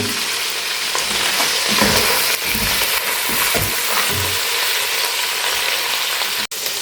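Vegetables fry in a pan for fried rice alongside shrimp, a steady broadband sizzle with occasional soft stirring scrapes, close and loud throughout, with a brief sharp knock near the end.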